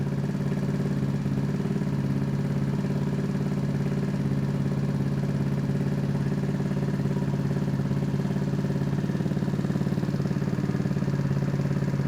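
A GY6 Honda Spree scooter engine idles steadily as it warms up while being checked for fuel issues, a constant close putter with an even low hum and light mechanical clatter throughout, no voices.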